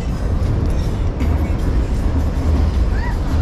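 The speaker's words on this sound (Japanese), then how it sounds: "電車の音にびっくりしてる" A train rumbles past outside a dog-friendly café, a loud steady low roar with rail noise and faint higher squeals, heard alone without talk.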